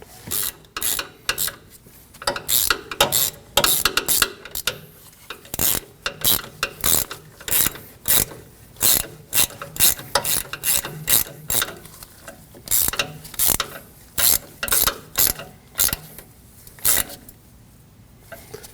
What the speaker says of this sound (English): we can use a 7mm socket to turn it in until it bottoms out and then get the nut on it